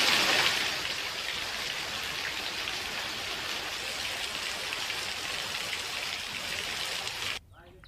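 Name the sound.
rain falling in Ahmedabad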